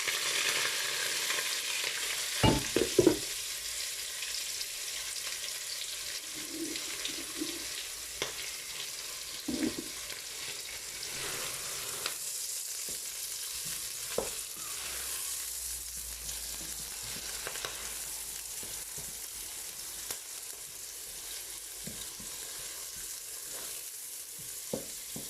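Onions and green beans fry quietly in a pan, a low continuous sizzle broken by occasional scraping knocks of stirring, with no talking.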